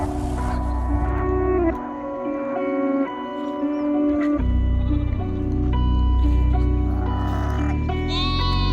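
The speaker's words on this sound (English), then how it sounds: "They bleat loud and unite." Sheep and goats on an Indian farm bleat loudly, many overlapping cries making a continuous, wavering chorus at close range as the flock returns to its sheds in the evening.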